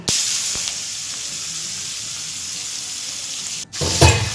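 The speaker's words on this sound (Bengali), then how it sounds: "চিংড়ি মাছগুলোকে ভালো করে ভেজে নেব তেলের মধ্যে" Prawns hit hot oil in a karai and set off a loud, close sizzle that settles into a steady hiss, with a brief dip before a fresh burst of spitting and clatter.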